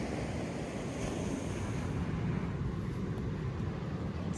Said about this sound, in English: And the sound of the crashing waves